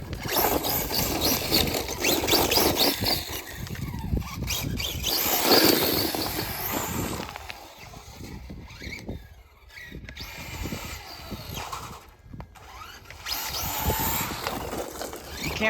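An Omni Terminator RC car drives and takes jumps outdoors on dirt, its electric motor whining and rising and falling in steady passes, with scuffing and brief quieter gaps between runs.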